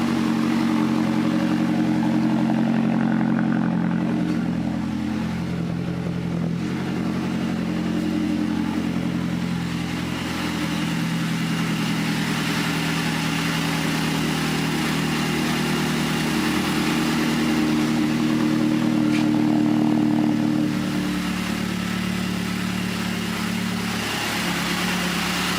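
A Mazdaspeed 3 engine fitted with a new Corksport downpipe idles steadily in neutral, a continuous, moderately loud low rumble with no talking.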